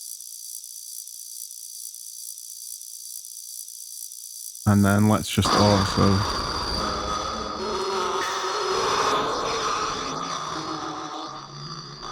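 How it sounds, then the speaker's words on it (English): A synthetic crickets atmosphere sample in an Ableton techno track gives a steady high chirping shimmer. Partway through, a low droning, grinding sound layers in beneath it, and a voice talks briefly. "it sounds like crickets, to be honest."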